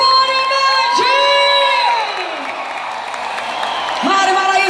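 Crowd at a live concert in Florianópolis cheering and shouting, with high, sustained voices and whoops rising over general noise, no distinct clapping standing out.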